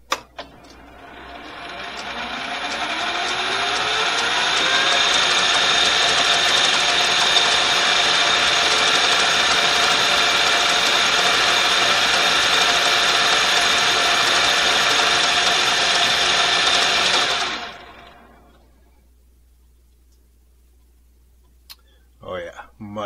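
A lathe cuts steel with a high-speed steel bit on a front sight base, producing a steady loud whirring, grinding drone for about fifteen seconds before spinning down, followed by a couple of faint clicks.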